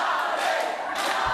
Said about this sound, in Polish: Gorące brawa dla Jarka